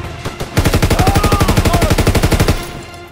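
A loud, rapid burst of automatic weapon fire in a World War II shooter game, around twenty evenly spaced shots rattling for two seconds before stopping abruptly, with no talking over it.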